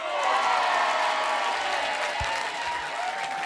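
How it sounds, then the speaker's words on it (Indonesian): Studio audience at an Indonesian morning TV show applauds the new host, a steady wash of clapping with faint cheering, a pitched tone running underneath. "Tepuk tangan."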